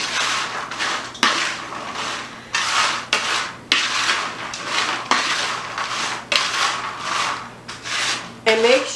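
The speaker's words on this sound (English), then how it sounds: "now we're going to stir it. Make sure everything's coated." Salted pecans are stirred in a pan to coat them, making loud, close, rhythmic scraping strokes, roughly one or two each second, with rattling nuts and the utensil rubbing against the metal. No talking.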